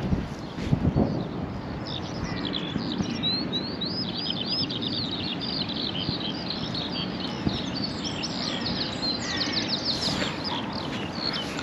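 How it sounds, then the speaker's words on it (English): Birdsong fills a countryside field walk in the morning, with many small birds chirping and trilling continuously at moderate distance over a steady outdoor background, without talk. "Lovely bird song this morning, some lovely bird song."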